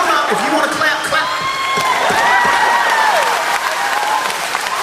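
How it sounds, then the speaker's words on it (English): A television studio audience claps and cheers, mixed with whoops and excited voices, a loud continuous burst of applause throughout. "If you want to clap, clap."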